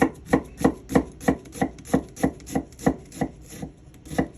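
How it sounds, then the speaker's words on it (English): A knife dices an onion on a cutting board in a brisk, even run of about a dozen sharp, close chops, with no one speaking. "Now you go this way, turn it, go follow the lines of the onion."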